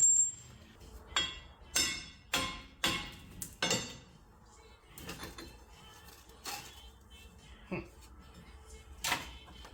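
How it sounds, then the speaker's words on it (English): A hammer strikes a Jeep TJ wheel bearing and hub assembly repeatedly, sharp ringing clanks in an uneven rhythm, louder early then spaced out and quieter, close by. "So I'm just hitting it with a hammer."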